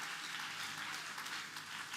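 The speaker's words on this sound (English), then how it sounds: "Clap for Jesus." A church congregation clapping during a prayer service, a soft continuous patter of many hands heard at a distance, fairly faint and even throughout.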